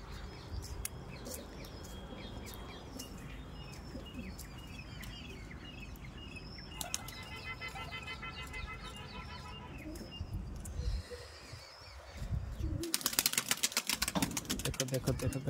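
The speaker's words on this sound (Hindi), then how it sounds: "देखो देखो देखो देखो कैसे उड़ रहे" Pet pigeons, including high flyers, take off from a rooftop loft in a burst of flapping wings, with cooing and chirps mixed into busy outdoor noise; a loud fluttering rush builds near the end.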